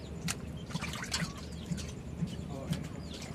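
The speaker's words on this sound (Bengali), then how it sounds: "মাছটা অলরেডি 4 থেকে 5 বার অলরেডি সুন্দর মতন ধোয়া হচ্ছে" A cut fish gets washed with water at a fish shop before frying. Soft splashing and dripping sit low under steady talk, with faint trickles throughout.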